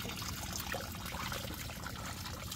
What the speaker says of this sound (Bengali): যে পানি উপরতে পড়তেছে এটার মধ্যে হাত দেওয়া জানা, প্রচুর গরম।